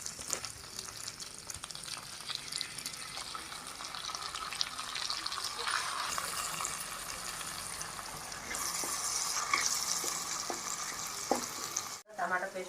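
Crushed onion paste sizzling and frying in a pan for a Telugu-style fish curry, a steady close crackle with occasional stirring scrapes, brightening toward the end.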